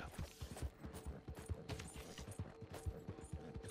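Horse hooves pound in a quick, rhythmic gallop in Red Dead Redemption 2 Online, thudding steadily and close, with some clattering noise over the beat.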